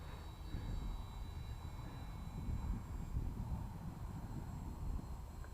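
An FX707S Albatross RC model airplane flies with its motor at half throttle, a faint, distant steady drone with a thin high whine over rumbling wind, constant throughout.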